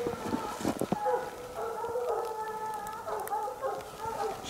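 Hunting dogs baying and howling at a treed Canadian lynx, drawn-out wavering howls carrying from a moderate distance over the whole stretch, with a few short sharper yelps near the start.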